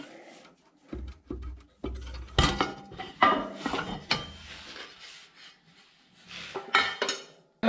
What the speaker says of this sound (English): Now we can get the lid off.